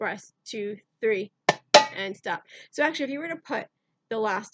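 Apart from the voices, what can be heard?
None of the usual background noises is heard.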